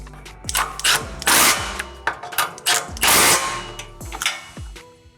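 Ratchet tightening an exhaust clamp on a 2005-2014 S197 Mustang, rapid clicking and grinding bursts repeating over several seconds, loud and close with metallic knocks.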